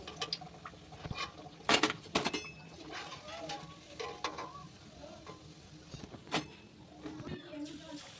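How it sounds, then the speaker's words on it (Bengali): Steady sizzle of banana flower chops deep frying in oil, with metal utensil scrapes and clinks, soft talk in the background. "বাকি চপগুলো ওই একইভাবে ভেজে নেব"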